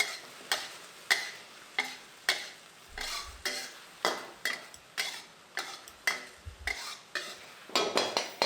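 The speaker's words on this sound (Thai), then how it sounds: "เราจะนำเห็ดออรินจิกับแครอทนะครับ ที่เราลวกเอาไว้นะครับ ลงมาคลุกเค้าผัดให้ทั่วนะครับ" King oyster mushrooms and carrot are stir-fried in a pan over high heat, with a steady series of sharp scraping stir strokes about twice a second over a faint sizzle and no voices.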